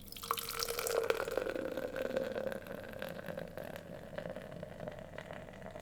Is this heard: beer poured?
yes